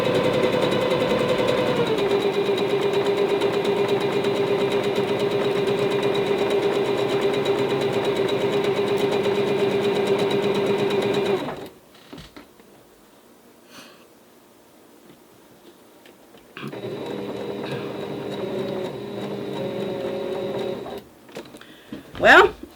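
A sewing machine stitches a quilt in a long, steady, loud mechanical drone that suddenly stops when the bobbin runs out. After a quiet pause, a second stretch of machine running starts up and ends in a brief clunk.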